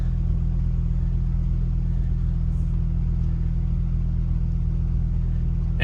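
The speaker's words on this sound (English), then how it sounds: "I'm going to start the car and just see if it does it this time." A warm Ford Focus ST225 idles steadily, a constant low engine rumble heard alone without any voices.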